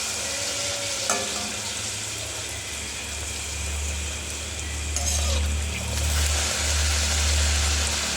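Luchi deep frying in hot oil, a dense continuous bubbling sizzle up close with a low rumbling undertone and a few brief louder crackles, no speech.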